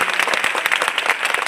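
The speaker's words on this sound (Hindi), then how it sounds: "जोरदार तालियों के लिए कहा था" Audience applause at a poetry gathering (kavi sammelan) at a technical university in Lucknow: dense, steady clapping from a large crowd throughout, fairly loud and close, with no one speaking over it.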